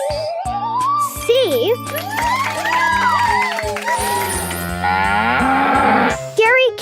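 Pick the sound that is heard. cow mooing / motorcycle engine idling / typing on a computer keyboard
cow mooing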